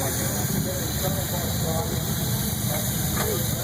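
A steady broadband hiss of steam from a Stanley Steamer steam car being started, with a low rumbling engine-like drone underneath and occasional faint clanks.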